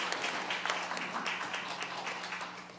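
A Korean church congregation at a Sunday worship service gives their pastor another round of dense, steady applause, many hands clapping continuously and fairly close throughout without any talking.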